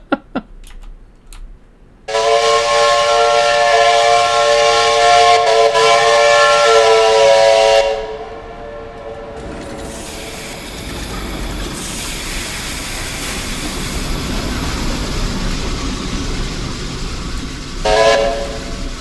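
A steam locomotive running on a hot day sounds a long, loud whistle blast lasting several seconds, then keeps rumbling and hissing along the track before a brief second whistle toot near the end.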